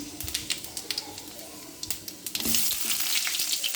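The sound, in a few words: dried red chillies and five-spice frying in oil to temper dal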